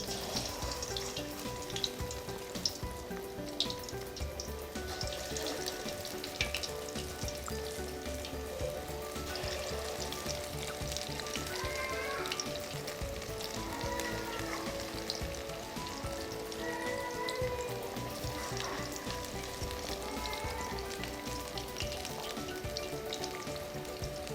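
Potato and spinach pakoras frying in hot ghee in a wok, a dense continuous sizzle and crackle up close that stays steady for the whole stretch.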